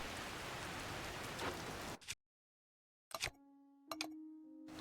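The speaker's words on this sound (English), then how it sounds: "But it's kind of raining right now." Rain patters steadily in the video game Zelda: Tears of the Kingdom, a dense hiss that cuts to silence after two seconds, then returns with clinks and a sustained tone.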